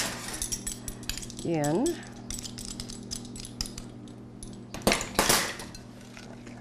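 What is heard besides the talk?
stirring corn syrup into hot fudge sauce in pot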